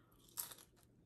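One close crunch as someone bites into a cheeseburger egg roll, a brief crisp burst followed by a softer crackle, faint and quiet with no voices.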